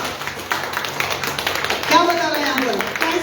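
A congregation claps for Jesus during a Resurrection Sunday church service, a dense, continuous patter of many hands mixed with loud voices and cheering in a reverberant hall.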